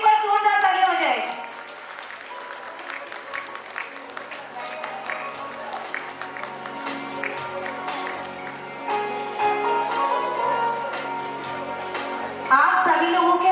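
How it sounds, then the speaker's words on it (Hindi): Audience at a Women's Day celebration claps together, a busy stream of hand claps with musical tones and voices mixed in, loud at the start and swelling again near the end. "उर्मिला जी के लिए एक बार जोरदार तालियां हो जाए"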